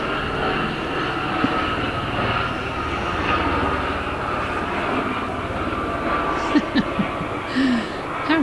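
Overhead, a police helicopter keeps up a loud, continuous engine roar with a low rumbling throb, while people talk briefly beneath it toward the end.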